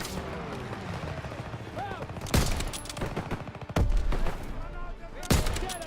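Steady rattling gunfire from Call of Duty: WWII, with several sharp, loud shots cracking out over the din, busy and continuous like a game battle.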